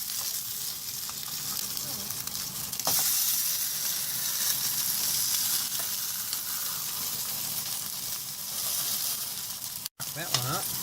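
Meat-free, gluten-free veg burger patties sizzle and crackle steadily as they fry in a pan. The sound is close and continuous, with one very short break near the end.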